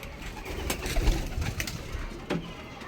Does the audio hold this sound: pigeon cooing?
yes